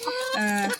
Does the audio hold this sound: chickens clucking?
yes